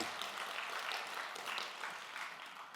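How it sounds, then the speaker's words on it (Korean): A congregation applauds at a Christmas Sunday worship service in a Korean church, a sustained, fairly quiet wash of many hands clapping with no voices standing out. "우리 큰 박수로 하나님 앞에 영광 돌리겠습니다"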